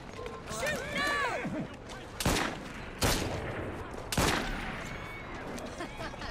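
Gunfire in Assassin's Creed Syndicate: three sharp, loud shots spaced about a second apart, cutting through busy game ambience with chirping sounds before them.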